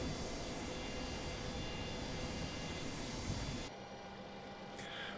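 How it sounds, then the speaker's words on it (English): A simulated Boeing 727 jet engine starts up in Microsoft Flight Simulator as a steady, dense roar with a whine, then the tone shifts and settles partway through. "The engine seems to have come online."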